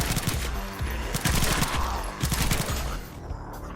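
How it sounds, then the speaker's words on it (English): Rapid bursts of MP5 machine gun fire from the shooter game PathogenX, loud and close, rattling in quick clusters across nearly the whole stretch before cutting off near the end. "We just got a machine gun, baby."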